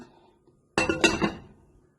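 A metal lid is set down on a pot of fried chicken biryani, giving a single clear clink and rattle after a quiet moment, then ringing briefly and fading.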